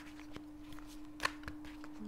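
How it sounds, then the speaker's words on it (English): Tarot cards being shuffled by hand, a few soft riffling and slapping bursts spaced irregularly, quiet and close over a faint steady hum, with no talking. "I'm gonna shuffle the cards and see what comes up."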